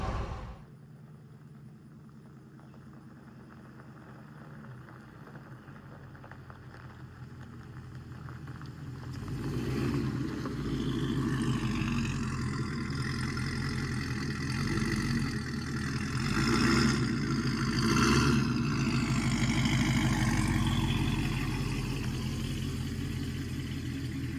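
A loud GMT 900 truck engine runs as a steady low drone that swells louder about a third of the way through and holds there, close and alone.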